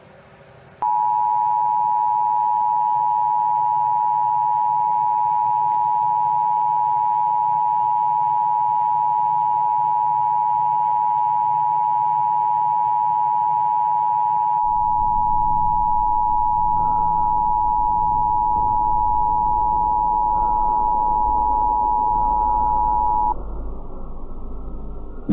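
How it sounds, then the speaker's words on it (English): Emergency Alert System attention tone ahead of a national emergency action notification broadcast: a loud, steady, piercing two-tone sine signal holding unbroken for over twenty seconds, with a harsh burst of broadband noise joining midway before the tone cuts off. "This is an emergency action notification."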